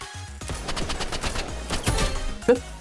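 Rapid bursts of gunfire from a first-person shooter game at long range, a string of sharp shots in quick succession with a louder crack near the end, no talking over them.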